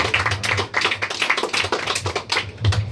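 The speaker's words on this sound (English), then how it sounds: "Another round of applause," Audience at an open mic night at a New York City guitar school claps steadily through the whole stretch, a close, dense patter of hands in a small room, with no one speaking.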